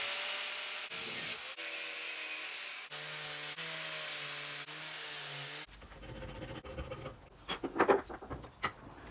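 Metal stock is sawn or cut in a workshop, a rough rasping grind that stops and restarts in strokes, then gives way to clattering and handling noises near the end.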